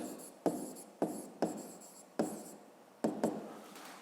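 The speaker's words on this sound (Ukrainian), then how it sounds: "пишемо дубно" A pen writes on paper in a maths lesson, making scratchy strokes in short bursts of about five quick scribbles, each starting with a sharp tap, close and fairly quiet.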